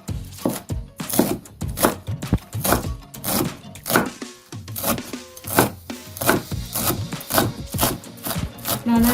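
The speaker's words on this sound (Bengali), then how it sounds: "তারপর এগুলোকে খুব ভালো করে কুচি করে কেটে নিচ্ছি" A knife finely chops a fistful of leafy greens on a board for pakora: a steady run of close, crisp chopping strokes with a slight rasping scrape between cuts, and nobody talking.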